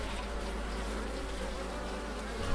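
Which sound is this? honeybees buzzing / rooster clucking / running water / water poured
honeybees buzzing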